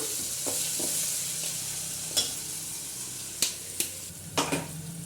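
A green chili, ginger and garlic paste fries in hot tempering oil for vegetable upma with a soft, steady sizzle, broken by a few sharp clinks and scrapes of a spoon stirring.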